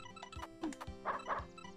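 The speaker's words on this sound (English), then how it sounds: "Woof woof, doggy's barking" A small dog yips and barks in quick, faint bursts, several short calls in a row, heard alone at low level.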